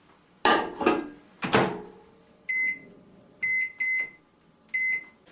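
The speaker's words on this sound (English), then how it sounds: "put this in the microwave for about 5 minutes." A few clattering knocks as a dish of lasagna and the door are handled, then a microwave beeps in several short electronic bursts as it is set.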